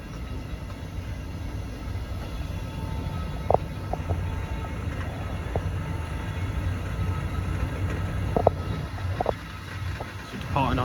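A Slovak domestic sleeper train runs after departure with a steady low rumble of rolling wheels and wind noise, punctuated by a few sharp clicks and clanks of the carriage, while a voice speaks over it.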